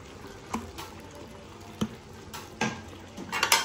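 Goat kaldereta stirred in a pan, soft sizzling under several sharp spoon scrapes and clinks against the metal, irregular and close, with no talking.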